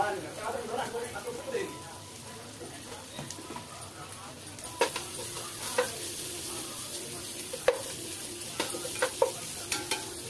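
Turmeric and ginger paste sizzle in a hot pan for egg dum biryani, giving a steady crackling fry with clinks of stirring. A person talks over the cooking throughout.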